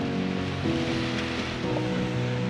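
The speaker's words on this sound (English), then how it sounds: "We can hear the waves already." Steady broadband wash of surf rolling in, continuous and fairly loud, with no voices over it.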